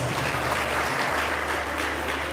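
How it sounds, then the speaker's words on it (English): Brief round of audience applause at a university Founders Day ceremony, a thick, even roar of clapping over a low hum from the hall's sound system. "Please give yourselves another round of applause."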